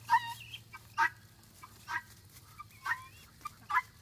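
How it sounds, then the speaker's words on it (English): Guinea fowl call outdoors in a handful of short, harsh bursts about a second apart, with a low steady hum underneath between the calls. "The guineas are out there talking."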